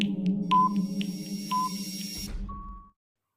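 A game-show style quiz countdown timer in a general knowledge quiz, a buzzy electronic bed with repeated short beeps and tones running for about three seconds, ending in a final sustained beep before cutting to silence.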